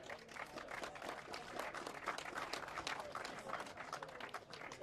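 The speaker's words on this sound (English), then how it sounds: "let's have a round of applause" A crowd applauds at a kart race prize-giving at Rye House, steady dense clapping continuing throughout, moderately distant and fairly quiet.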